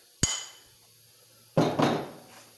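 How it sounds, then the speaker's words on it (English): A hammer taps a part from a Gravely L crank assembly during a teardown: one sharp metallic strike, then after a pause a quick pair of heavier blows, close up and with no talk. "Let me give that a little tap with the hammer, nice and flat."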